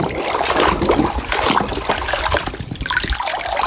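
A white toy bus being washed in water, with continuous close splashing and trickling that sloshes unevenly throughout and carries no talk.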